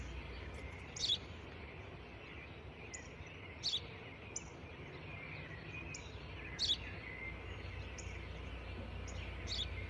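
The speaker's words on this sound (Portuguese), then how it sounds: "Eu já te disse, pai, é um pássaro." Faint, brief bird chirps recur every second or two over a steady low background hum, distant and sparse rather than a continuous song.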